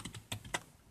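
Three or four quick keystrokes on a computer keyboard, sharp close clicks typed at an even pace while entering code into a browser console, with no talk.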